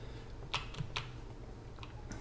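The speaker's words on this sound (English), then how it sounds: "hit the down arrow on my keyboard" Keys tapped on a computer keyboard during a Java programming session, a few quiet isolated clicks over faint room noise, no talking.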